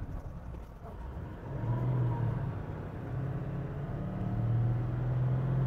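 A Toyota LandCruiser 70 Series engine strains while towing and drops back to first gear, a quiet, low rumbling drone that swells and holds a little higher toward the end, heard from inside the vehicle.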